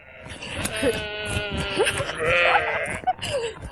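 Sheep in a sheep-herding video game let out drawn-out wavering bleats, several overlapping calls rising and falling in quick succession, loud and close.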